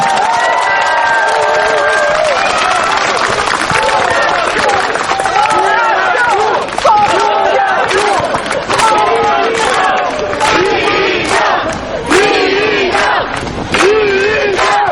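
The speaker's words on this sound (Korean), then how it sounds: "큰 박수 부탁드립니다" A crowd at an outdoor election campaign rally in a neighbourhood park shouts and cheers loudly for the whole stretch, with clapping mixed into the roar and voices calling out throughout.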